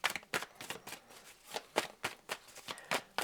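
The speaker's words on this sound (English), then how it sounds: "Let's have another shuffle." Tarot cards being shuffled by hand, a series of crisp riffling bursts repeating roughly every half second, close and fairly quiet with no voice over them.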